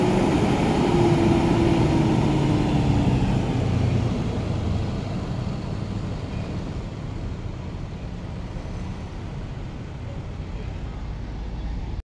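Haryanto bus number 030 leaving Kemajaya bus terminal, a diesel engine rumble that whines up briefly at the start, then fades steadily as it moves away, mixed with broadband traffic noise.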